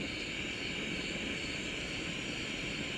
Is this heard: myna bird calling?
no